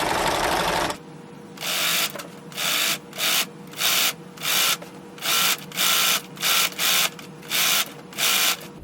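Sewing machine stitching a rolled hem on fabric, running in about ten short regular bursts separated by brief pauses, loud and close with no talking.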